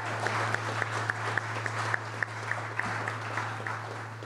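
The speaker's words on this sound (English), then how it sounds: "So a round of applause for all of you." An audience at a panel on ranked choice voting at the American Democracy Summit applauds with steady, dense clapping. Some sharper individual claps stand out in a regular rhythm over a constant low hum, with no talk over it.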